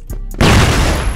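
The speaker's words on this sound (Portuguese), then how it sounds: "Flashbang." A flashbang grenade detonates in a first-person shooter game. A sharp, loud blast cuts in abruptly after brief quiet, then leaves a sustained ringing hiss with a steady high whine that fills the rest of the moment.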